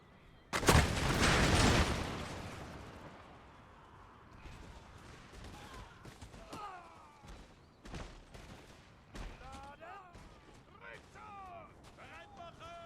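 A Jaeger infantry volley of musket fire in Empire: Total War erupts as a loud, dense crackling burst, then gives way to scattered distant shots and battle noise while someone talks over it.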